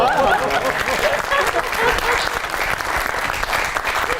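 A live audience at a comedy show gives loud, continuous applause, thick and steady for the full stretch, with voices audible underneath.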